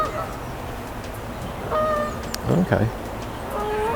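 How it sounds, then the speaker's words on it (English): Geese call as they fly low over a lake, their honks faint and distant in two short bursts. A single brief spoken word cuts in between them. "Some geese flying around, sounds absolutely gorgeous. Sounds like they're flying low."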